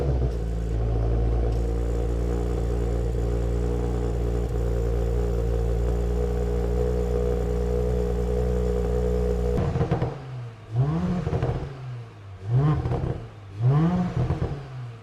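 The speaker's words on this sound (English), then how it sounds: "the exhaust note just sounds incredible" An Audi S4 engine drones at a steady low pitch for several seconds, then a series of rising revs surge and fall in quick succession through the exhaust, close and loud.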